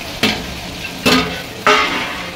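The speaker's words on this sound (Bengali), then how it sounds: "পেঁয়াজ ভাজা হোক এখানে।" Finely chopped onions fry in a pan with bay leaf, cinnamon and cardamom, a steady close sizzle broken by three loud stirring scrapes spaced across the stretch, with no voices.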